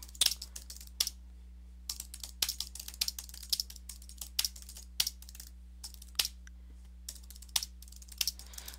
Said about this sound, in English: I'm just typing some sort of random thing here,